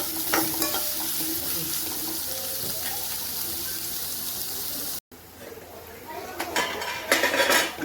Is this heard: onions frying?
yes